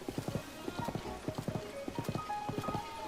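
Horse hooves clip-clop in a quick, steady rhythm in The Legend of Zelda: Tears of the Kingdom, close and fairly loud, with no voices.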